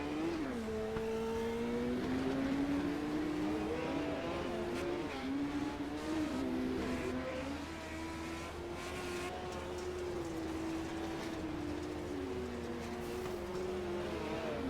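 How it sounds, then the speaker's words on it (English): Race car engine at a Kokomo Jones BS Legends event, droning steadily as it rolls off pit road during warm-up, with shifting pitch as it accelerates and eases, loud and continuous with no talk. "Tyler Gilbert rolls off pit road."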